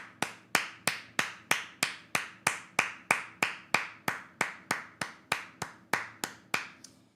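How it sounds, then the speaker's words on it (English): Someone claps hands in a steady, even rhythm, about twenty crisp claps close to the mic, slowing slightly and fading at the end. "we got to clap it up for him"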